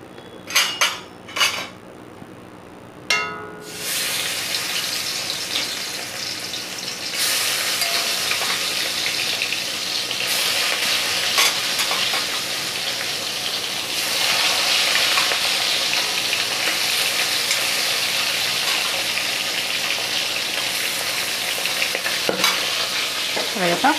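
Wallago fish pieces dropped into hot mustard oil in a pan burst into a loud, steady sizzle that swells and holds, with a few metal utensil clinks at the start before the frying takes over.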